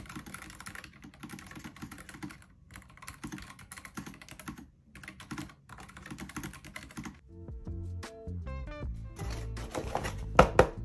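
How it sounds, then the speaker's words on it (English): Fingers type on a mechanical keyboard in quick clicking bursts with short pauses, then switch to heavier, more spaced-out clacks near the end, all close and fairly quiet. "This is the mechanical keyboard."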